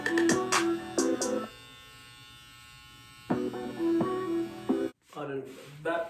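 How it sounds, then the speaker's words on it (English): Electric hair clippers buzz close by while tapering a front hairline during a self haircut, in short bursts broken by pauses, with a brief clatter near the end. "I'm just tapering my front hairline just a little bit."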